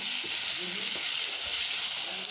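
Tomato bhaji with coriander leaves fries in a pan, giving a soft, even sizzle with light stirring underneath, fairly quiet and close.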